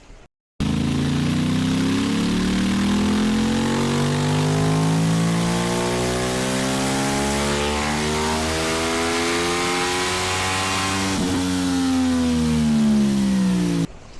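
Engine on a dynamometer, loosening up and gaining horsepower, revs up steadily in one long continuous pull, its harmonics rising for several seconds, then drops back briefly before climbing again, loud and close with no talk.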